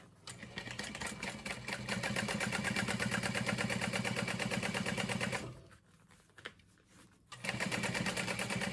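A sewing machine stitches a handbag panel in a steady, continuous run, briefly slowing to near quiet before it starts up again at full speed. The machine is close and loud, and no one speaks.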